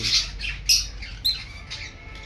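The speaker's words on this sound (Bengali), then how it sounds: "এই যে জনি, এই যে সবুজ পাখি।" Green pet birds in an aviary colony squawk in a few sharp, close bursts, with quieter chatter in between and no voices.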